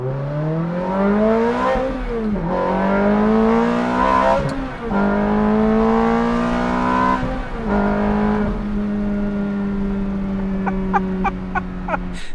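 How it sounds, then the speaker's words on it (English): A Ferrari F430 engine revs hard and close, pitch climbing and dropping in repeated surges before settling into a steady high drone, with a few sharp clicks near the end. "You get to hear all of that engine noise."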